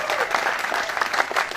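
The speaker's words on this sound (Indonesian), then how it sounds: "Ini maksudnya apa tepuk tangan begini?" Audience applause at a religious lecture in Cianjur, a dense, steady wash of many hands clapping with swelling bursts of cheering and crowd voices mixed in.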